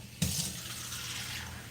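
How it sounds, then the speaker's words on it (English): Kitchen tap water starts abruptly and pours steadily into a cup, a close, continuous hiss and splash with no speech. "I'm going to get a cup of water."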